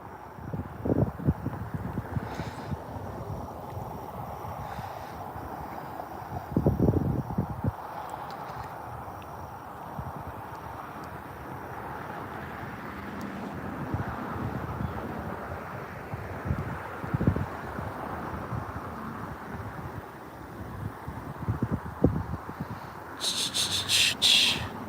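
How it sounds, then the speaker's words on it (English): Steady wind buffeting a microphone outdoors on a riverbank during a fishing outing, a continuous broadband rumble with occasional stronger gusts, no talk. "I think it's the wind"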